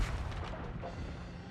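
A deep, muffled boom of ship guns firing in World of Warships opens loud and rumbles away over a second or so, a low heavy thud fading out with no voices.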